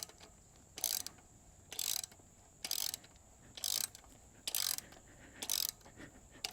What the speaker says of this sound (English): We'll just take it in with the hand ratchet part way, and then we'll torque it after we get the cooler line fitting installed.